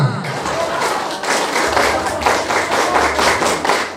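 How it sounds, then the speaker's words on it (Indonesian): Scout-style rhythmic group clapping at a social service and free health check event, many hands striking in distinct repeated beats with thumps, close and fairly loud. "Tepuk pramuka."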